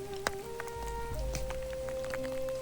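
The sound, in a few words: rain falling in a forest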